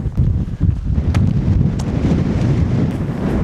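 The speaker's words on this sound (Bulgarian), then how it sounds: "голям вятър има" Strong, icy wind gusting across the 2275 m summit of Golyam Kademliya peak, a loud, continuous low roar buffeting the microphone with sharp rumbling bursts, no voices present.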